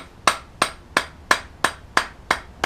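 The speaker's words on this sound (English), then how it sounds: "this hammer's a bit big for this really" Eight crisp hammer taps on gasket paper for a 1988 Mini land at a steady pace, each a short bright knock, close up with no voices.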